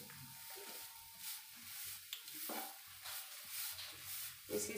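Amla mixture cooking in ghee on medium gas, a soft sizzle broken by several scraping stirs of a spoon against the pan, faint and close, with no voices.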